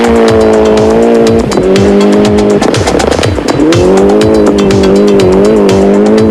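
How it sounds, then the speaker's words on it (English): A 1994 Toyota Celica WRC rally car blasts through a stage of Rally Australia, its engine loud and close with rising and falling revs, rapid gear changes and crackling exhaust pops throughout. "the Celica blitzes the stage, taking another 3 seconds back from the leader"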